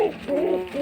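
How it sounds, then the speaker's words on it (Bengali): Giribaz pigeon cooing, a short low warbling coo repeated in two soft pulses, close by and brief. "এত সুন্দর একটা কবুতর, মানে গ্রিবাস কবুতর।"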